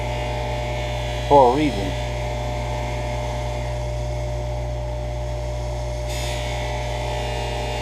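Bench buffer with its buffing wheel spinning, giving a steady, even motor hum that runs unchanged throughout, with a short spoken remark near the start.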